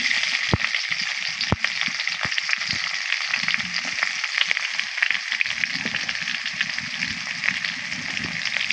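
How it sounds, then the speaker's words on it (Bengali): Onions hit hot oil in a wok and fry with a loud, steady sizzle, overlaid by sharp crackles and pops and occasional scraping clicks close by. "আমার তেলটা গরম হয়ে গেছে। আমি এবার দিয়ে দিব কিছুটা পেঁয়াজ।"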